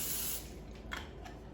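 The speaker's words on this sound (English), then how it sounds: "get the non-stick cooking spray so the calzone doesn't stick to the basket" A can of non-stick cooking spray sprays into an air fryer basket in a short hiss, followed by two quick softer bursts, close and fairly quiet.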